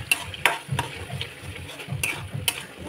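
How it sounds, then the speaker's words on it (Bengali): Chicken frying in a pan with oil and spices, a soft steady sizzle broken by sharp scraping clicks of a spoon stirring at irregular intervals, close and moderately quiet. "এখানে কিন্তু এরভাবে দিয়েই খুব ভালোভাবে ভাজা ভাজা করতে হবে"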